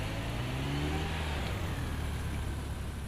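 A racing car engine in a rainy video game race in northern France holds a steady, loud mid-pitched drone with rising rev tones early on, continuous throughout with no talk.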